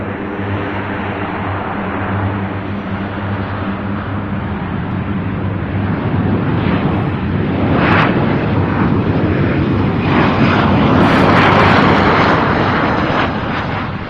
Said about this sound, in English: CRJ 900 daily flight out of Houston.